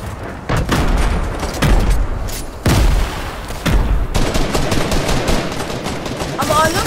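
Repeated loud sniper rifle shots ring out in a battle royale squad match, sharp booming cracks at irregular intervals roughly a second apart, each with a short decaying tail, over busy game ambience.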